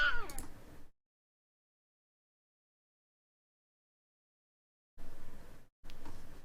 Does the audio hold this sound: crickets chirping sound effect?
no